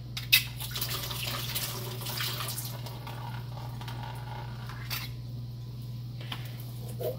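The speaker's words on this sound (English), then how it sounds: "Drain the water." Water from canned beans runs into a sink, a soft uneven splashing and trickle over a steady low hum, fairly quiet and without talk.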